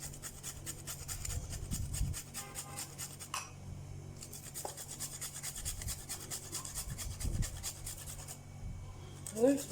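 Fresh peeled garlic and ginger rubbed against a grater, a soft repeated rasping scrape in uneven strokes, fairly quiet and close, with a few brief pauses and faint background hum.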